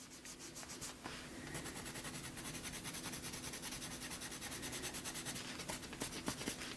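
A Koh-i-Noor pencil drags across a gessoed page, giving a steady, close, gritty rubbing and scratching that runs continuously with small stroke-by-stroke variations and no talking.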